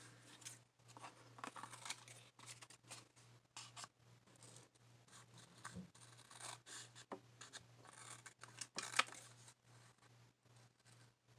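Scissors trim a paper music tag with a series of quiet, close snips and scraping rasps, irregular and intermittent, over a faint steady hum.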